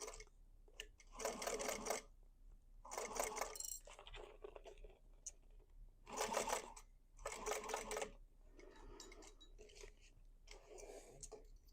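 Sewing machine running in several short bursts as it bastes fabric pieces of a basket in place, each quick whirring run stopping and restarting with quiet handling sounds between, close and fairly loud.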